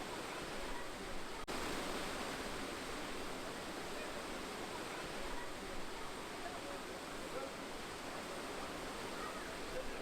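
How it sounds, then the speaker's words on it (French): The impressive waterfall at the entrance of the Akchour site in Morocco, a dense, constant roar of falling water filling the whole clip at even loudness, with a single brief click near the start. "Une impressionnante cascade marque l'entrée du site."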